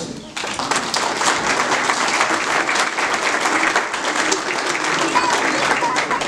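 Congregation applause at a church celebration, a dense sustained roar of many hands clapping that begins after a brief lead-in and holds loud and steady throughout, with scattered crowd voices mixed in.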